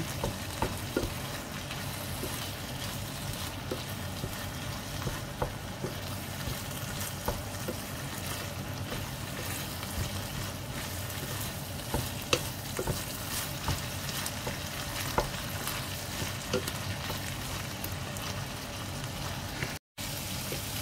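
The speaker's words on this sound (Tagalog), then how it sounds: "Kailangan maprito natin ng konti. So, ayan, haluin na natin." Tomato paste frying in a pan for Marikina-style everlasting, a steady soft sizzle with faint clicks and scrapes of stirring throughout, no one talking.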